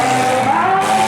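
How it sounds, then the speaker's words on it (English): A front-wheel-drive car at a county fair demolition derby spins its wheels, the engine revving hard and loud with a rising whine and tire noise in one brief, dense burst. "He's trying to spin the wheels on that front wheel drive"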